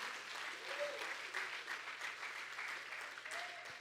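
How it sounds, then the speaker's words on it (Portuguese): Worshippers in a church clap together in praise, a steady, soft, somewhat distant patter of applause with faint voices mixed in. "Pode aplaudir ao Senhor."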